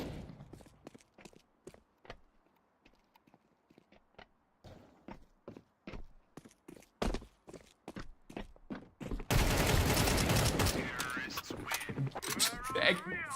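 Rapid bursts of video game gunfire in a competitive shooter round, a string of sharp clipped shots building from sparse single pops to a dense, loud volley near the end, with no talk over it.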